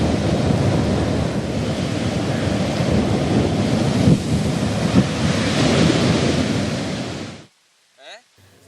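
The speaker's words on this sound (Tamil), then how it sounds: "கேரள மாநிலத்தில் கடல் சீற்றத்துடனேயே காணப்படுகிறது." Rough sea surf off the Kerala coast roars continuously, a heavy wash of crashing waves with gusty wind buffeting, cutting off abruptly into near silence near the end.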